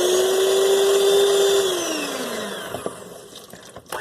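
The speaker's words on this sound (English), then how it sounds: "I have a mixer here. I'm going to slowly mix it." Electric hand mixer beating milk into doughnut batter, a steady close whine that holds pitch, then slows and drops in tone as it winds down, ending with faint clatter.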